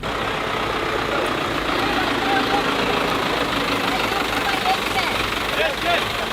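A tractor engine chugs along steadily at mid distance as it drives past, with people talking over it.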